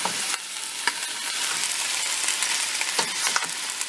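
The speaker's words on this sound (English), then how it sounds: "Ah, you hear the sizzle? That means it's ready." Raw meat for pozole sizzles steadily in a hot pan and is stirred throughout. The frying hiss is continuous, with scraping clicks from the stirring, and no one speaks.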